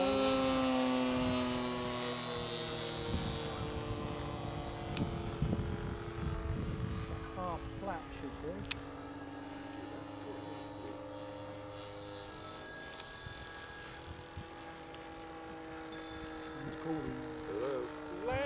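Small model Japanese fighter aircraft landing at a model flying club field, its engine a steady hum with wavering harmonic tones as it throttles back and descends, with people talking in the background.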